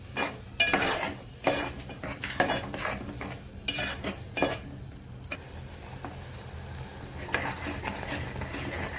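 A spoon scrapes and clinks against a pan while ground coriander-cumin masala roasts in oil, irregular sharp knocks over a soft sizzle, close and without speech.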